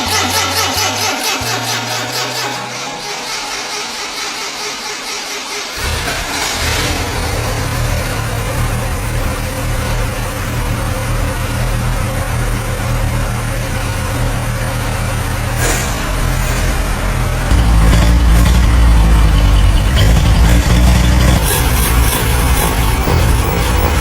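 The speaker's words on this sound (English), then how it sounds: "this 80-year-old engine finally roars back to life again" A restored 1942 Willys Jeep engine, rebuilt from total rust, cranks and catches, then settles into a loud, steady running drone close by that grows heavier toward the end, with no talking over it.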